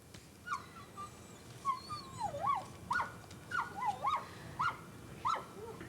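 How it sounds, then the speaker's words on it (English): A dog stranded in the 1997 Grand Forks flood whimpers and yips in a series of rising, whining cries, fairly close and repeated in short bursts over a dull background. "And this poor dog."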